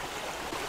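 A mountain stream runs steadily over rocks, a soft continuous rush and trickle of water heard close and even throughout, with no voices.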